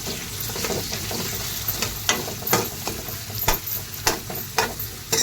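Finely chopped onions and tomato fry and sizzle in a hot pan for a Marathi green moong amti, with a steady close sizzle and occasional stirring scrapes.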